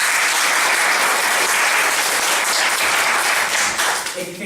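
Dense applause from a student comedy improv audience voting for a favourite character, steady and loud throughout before easing slightly at the end.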